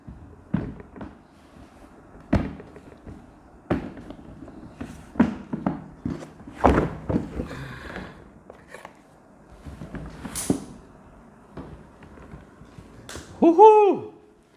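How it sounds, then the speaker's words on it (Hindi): A sturdy hard case for a Kral Puncher Nemesis air gun being handled and opened, with sharp clicks of latches, knocks and rustling in uneven bursts, close by, ending with a brief squeaky tone. "ये बहुत ही मजबूत, बहुत ही खूबसूरत हार्ड केस है। तो इसे खोलते हैं।"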